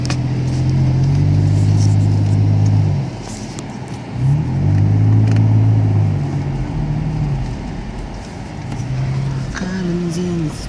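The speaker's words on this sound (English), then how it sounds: "Good fun on a quad bike." A quad bike engine drones close by as it rides over bumps, its pitch rising and falling in uneven surges with short dips between, amid rustling and faint wind.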